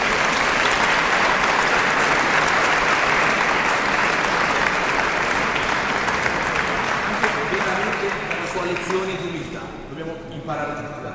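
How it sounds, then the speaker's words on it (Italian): Loud, sustained applause fills a church hall after a performance of Mozart's Requiem K626 at Santa Francesca Romana in Milan, a steady dense wash of clapping that thins slightly toward the end. "quindi un grandissimo applauso, se lo merita tantissimo"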